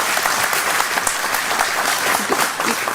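A crowd at a Reform UK rally in Suffolk claps steadily in a brief, close burst of applause.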